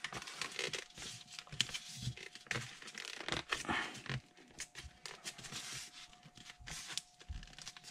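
A carbon fiber spar being pushed into a paper-skinned model wing makes continuous crinkling, scraping and crackling paper sounds in irregular bursts, close and fairly quiet, with a faint steady hum underneath.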